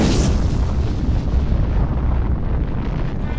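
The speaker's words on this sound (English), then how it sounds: "Where will you be when the atomic bombs fall?" Atomic bomb blast effect from a Fallout pre-war ad, a loud, sustained rumbling explosion roar that fills the whole stretch with dense low-end boom and steady intensity, no voices.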